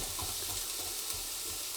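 Onions browning in a Ninja Foodi Possible slow cooker with a Teflon-coated pot give off a faint, steady sizzle and crackle, heard on their own without talk.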